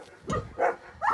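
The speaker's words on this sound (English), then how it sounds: "sorry about the dogs." Three loud, close dog barks ring out at a steady pace, each short and full-bodied, with no talking over them.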